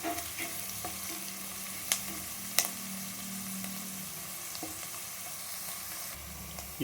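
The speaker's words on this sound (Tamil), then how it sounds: "வெங்காயம் நல்லா பொன்னிறமாகிற வரைக்கும் நல்லா வதக்கிக்கலாம்." Onions sauté in a pan for a brinjal potato chicken curry, giving a steady sizzle with occasional scrapes and taps as they are stirred.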